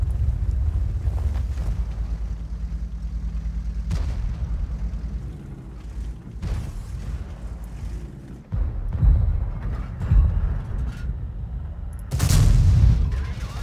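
A T95 tank destroyer's heavy gun booms in World of Tanks amid a steady rumbling engine drone, with deep blasts landing near the middle and at the end.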